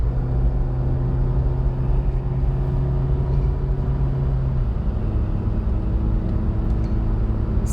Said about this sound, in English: You do hear a tiny bit of wind noise, as well as some road noise